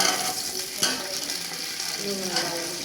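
Onions fry in oil in a pot over low heat for a beef pulao, a close, steady sizzle broken by a few sharp stirring knocks.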